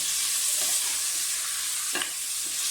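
Raw chicken browning in a pot of hot oil as the first step of a chicken soup (yakhni), with a steady, moderately loud sizzle and a few soft stirring scrapes and taps.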